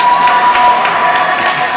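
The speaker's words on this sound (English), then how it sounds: "That's all the teams cheering for him" Teams cheering for a swimmer at a swim meet: a continuous blended roar of many voices shouting and cheering, steady and fairly loud, with faint splashy accents.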